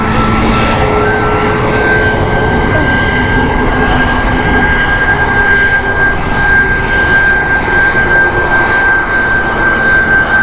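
Ryanair jet airliner at Stansted Airport, a loud, steady engine roar close by that holds for the whole stretch with a thin whine riding on top, and no voices.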